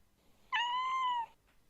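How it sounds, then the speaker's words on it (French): A kitten gives a single clear meow, rising slightly and holding for under a second, close and fairly quiet against a near-silent background. "L'animal audacieux vient se frotter contre moi en miaulant"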